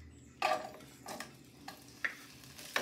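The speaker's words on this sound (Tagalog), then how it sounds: "pag mainit na, igigisa na natin yung ating sibuyas" Onions sautéing in hot canola oil, a soft, faint sizzle with a few stirring scrapes and light clicks from a utensil in the pan.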